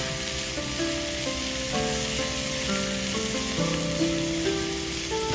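Onion, tomato and green chilli sizzle steadily in a frying pan for an omelette, a continuous close hiss with faint tonal hum beneath, no voices.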